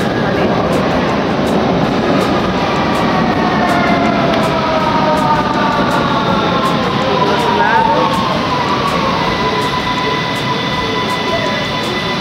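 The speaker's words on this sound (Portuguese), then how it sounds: "Agora chegou, a gente vai embarcar no metrô." A subway train rolls into a Vienna metro station with a loud, continuous rumble and rising and falling metallic whine, steady throughout.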